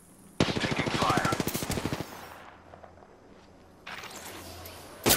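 Rapid automatic gunfire rattles in a dense burst during an Apex Legends firefight, stops for a couple of seconds, then a second burst starts; loud and close, with the game's action sounds around it.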